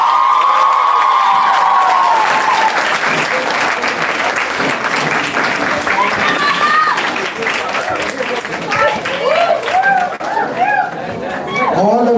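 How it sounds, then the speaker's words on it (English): A quiz audience breaks into applause, cheers and whoops for the winning team at Gurumantra Quizathon 2023, loud, sustained clapping with shouting voices and a speaking voice over the start. "All of your woos and your applauses can now begin"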